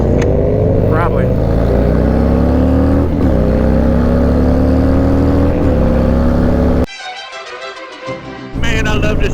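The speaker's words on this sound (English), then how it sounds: "Man, I love this motorcycle." A motorcycle cruises at Daytona Bike Week with a loud, steady engine drone close to the rider, pitch rising and falling with gear shifts, wind rush noticeable, the engine fading briefly near the end before returning.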